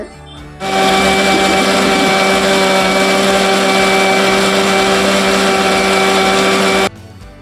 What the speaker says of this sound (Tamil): தண்ணி எதுவும் சேர்க்காம இதை அரைச்சி எடுத்துக்கோங்க